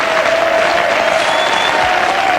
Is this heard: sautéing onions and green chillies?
no